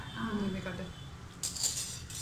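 Metal spoons clink and rattle together briefly near the end, following a stretch of quiet talking.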